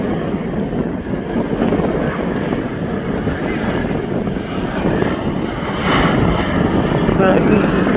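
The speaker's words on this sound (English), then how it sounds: "So this is the Polaris PC-12. That's off up now to Newcastle." A Pilatus PC-12 turboprop departs from the executive area of Birmingham International Airport, a loud, steady propeller and engine roar that grows slightly toward the end, with someone talking over it.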